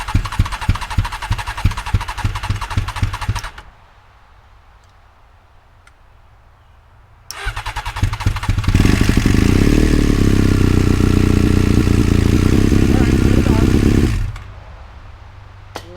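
A cheap Honda CBR 600 motorcycle, running on choke with a funnel for a gas tank and ignition wired by alligator clips, cranks with rapid ticking for several seconds. After a pause it fires up, revs loudly and roughly, then settles to a lower idle, with no talking.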